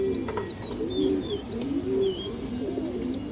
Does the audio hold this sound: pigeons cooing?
yes